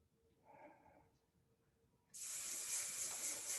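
Hairspray sprayed onto freshly dry-cut hair in a salon: a soft, faint hiss at first, then one loud, close, sustained spray that lasts about a second and a half, with no voices.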